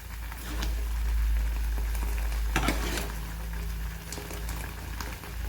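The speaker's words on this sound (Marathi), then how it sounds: "पहा हे उकळत आहे आपलं रस्सम" Raw amla rasam boiling in a pot, a steady close bubbling with a low rumble underneath and a few faint clinks of a spoon, with no voices.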